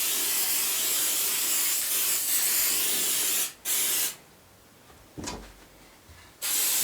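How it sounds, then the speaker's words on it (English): Glue spraying from an aerosol can onto quilt fabric, touching up a corner: close hissing bursts with short pauses between them and a brief fainter spurt, with no talking. "I'm just going to add a little bit more glue in the corner here"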